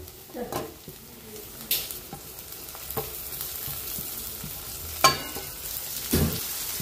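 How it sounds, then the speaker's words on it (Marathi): Tomatoes go into a frying pan, giving a moderate sizzle punctuated by several louder bursts and clanks of utensils against the pan. "आता आपण टमाटे टाकून घेऊ"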